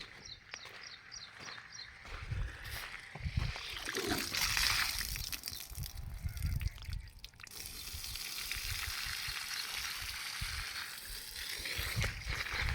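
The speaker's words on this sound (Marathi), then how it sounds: "थोड्या प्रमाणात पाणी जे आहे ते आपलं येत आहे" Water flows from the outlet of a 3 hp solar-powered borewell pump, a faint, steady trickling splash with soft outdoor background noise and no voices.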